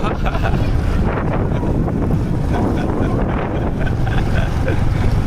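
Wind buffets a microphone outdoors, loud low rumbling gusts that thump and roar continuously across the whole stretch, close and overpowering.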